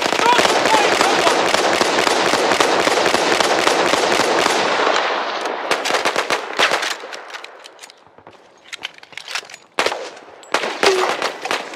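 Battlefield 1 combat with a grenade blast among dense, loud gunfire and explosions, a steady barrage for about five seconds, then sparser sharp bursts and booms.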